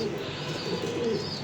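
Racing pigeons in a loft give off a steady low cooing murmur, close and continuous, with a dense rustling background throughout the short stretch.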